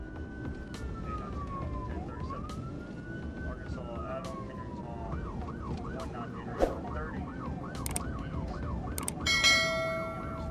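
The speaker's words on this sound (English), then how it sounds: "A speeding vehicle fled as soon as we activated the alarm siren." A police car siren during a chase after a speeding vehicle, first a long rising and falling wail, then a fast yelping warble, heard over steady road and engine noise with a few knocks.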